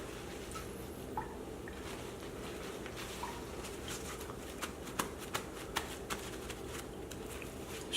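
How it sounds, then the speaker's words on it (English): Washed raw chicken pieces patted dry with paper towels make soft, crinkly rustling and papery dabbing, with a few light taps, close and quiet, with no talk. "And then we're going to pat them dry. I have some paper towels here."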